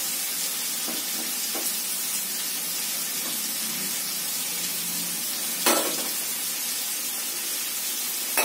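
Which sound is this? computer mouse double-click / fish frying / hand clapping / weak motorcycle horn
fish frying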